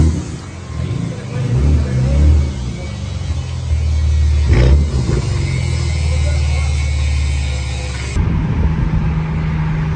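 A single-turbo BMW 335i engine revs hard under acceleration, a loud, sustained rumbling drone that swells and holds, briefly dipping near the end before picking back up, with no talk over it.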